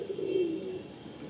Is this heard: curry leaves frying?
no